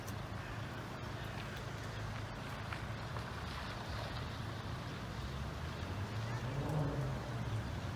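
A Network Rail rail grinder train running from Derby Chaddersden sidings to Barnetby gives a steady, fairly distant rumble that swells slightly near the end, mixed with wind noise.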